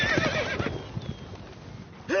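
Roach, a horse in a PS4 video game, whinnies loudly near the start with hoof clip-clops beneath, then a second rising neigh bursts in right at the end.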